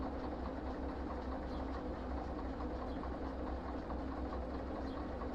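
A train runs in Derail Valley, producing a continuous dense rumble with a steady engine drone and faint rail clatter, even and unbroken from start to finish.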